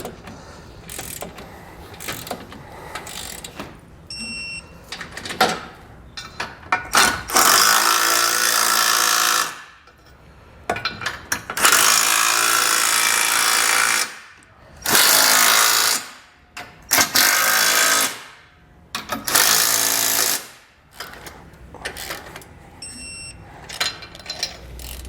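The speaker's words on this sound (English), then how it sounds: "we're going to snug up our bolts on the bottom there and torque those to spec as well" A hand ratchet tightens and torques the base plate bolts underneath a 2021 Jeep Cherokee. Loud bursts of rapid metallic clicking alternate with short pauses, repeating close up throughout.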